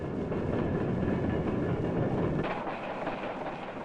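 Alaska Railroad train rolls along the tracks with a dense rumbling clatter and rhythmic wheel clicks, loud and close, easing slightly toward the end.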